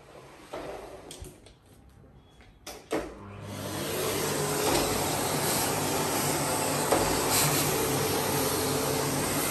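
A Philips PowerCyclone 7 bagless vacuum cleaner starting up after a few clicks and handling noises, then settling into a steady, loud, close whooshing motor roar that runs continuously.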